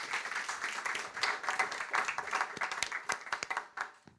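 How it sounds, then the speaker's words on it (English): Audience at a live evening discussion event giving a round of applause for a speaker named Hawkwood, fairly quiet and distant, with many hands clapping in uneven bursts that thin out toward the end. "Please give Hawkwood a big round of applause."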